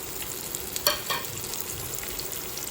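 Chopped okra frying in a pan with asafoetida sizzles up close, a steady crackle broken by a few sharp scrapes of stirring, and no one speaks.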